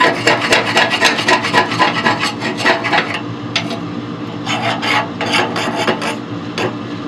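A tool scrapes the inside walls of a Harman pellet stove in quick, rough strokes, with gritty rasping that comes in bursts and then turns to slower, scattered scrapes.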